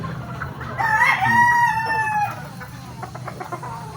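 Rooster crows loudly and close in a chicken coop, a long clear cock-a-doodle-doo, with hens clucking steadily around it before and after.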